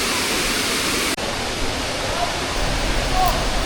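Rushing water pours down at Rutledge Falls, a loud, constant broadband roar close by, with a brief quiet speaking voice over it.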